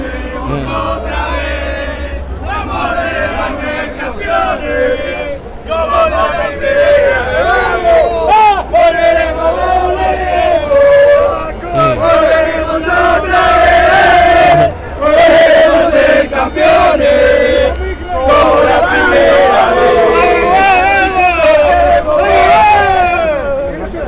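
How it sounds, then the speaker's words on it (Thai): South American football supporters, including Uruguay fans, chant and shout loudly in a street in Russia during the 2018 World Cup, a rhythmic roaring crowd chorus rising and falling, with occasional nearby chatter. "กองเชียร์อเมริกาใต้เนี่ย ไปไหนก็จะเสียงดังตลอด เฮฮาคึกคัก"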